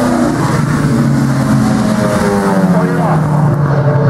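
A loud Audi V8 race car engine at a hill-climb race, the Oberlausitzer Dreiecksrennen, revving close by with rising and falling pitch throughout.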